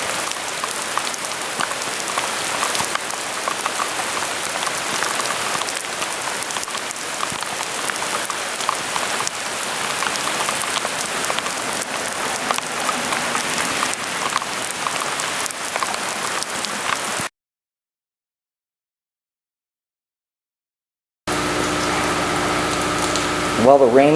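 Steady, dense rain pattering on a surface, loud and continuous, cutting off into silence before a brief return of noise.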